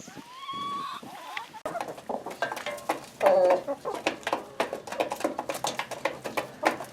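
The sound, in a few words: Barred Rock, Buff Orpington, Rhode Island Red chickens clucking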